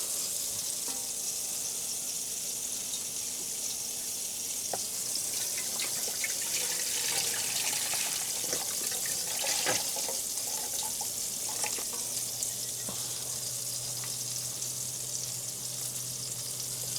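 Water poured into a cooking pot at an outdoor camp stove in rain, a steady running, splashing rush with sizzling underneath, close and fairly loud throughout.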